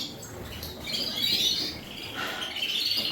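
Coloured canaries and native finches in an indoor bird room chirp and twitter continuously, a busy layered chorus of high tweets at moderate volume with no talking.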